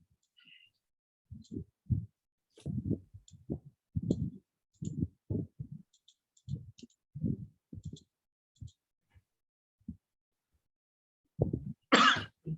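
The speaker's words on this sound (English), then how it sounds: "Got a bit of cough." A string of muffled, low coughs and throat-clearing, close and soft, ends with one sharper, louder cough.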